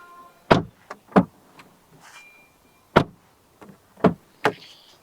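The door of a 2025 Tata Tigor XM base sedan shuts repeatedly, each close a sharp, solid thud, with about five separate slams spaced out across the clip and quiet gaps between.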